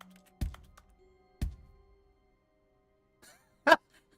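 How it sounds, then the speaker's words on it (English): Sparse, random keyboard key clacks in The Stanley Parable: Ultra Deluxe (2022), triggered by button presses, with a few separated thumps and a sharp click near the end, fairly quiet with no talking. "I hate that pushing the A button just makes random keyboard sounds"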